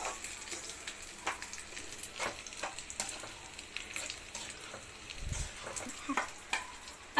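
Semolina (rava) dry-roasts in a pan for rava laddu, heard as a faint hiss broken by scattered scraping and tapping strokes of a stirring spoon, close and without voices.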